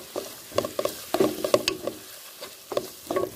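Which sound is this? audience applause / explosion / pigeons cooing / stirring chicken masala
stirring chicken masala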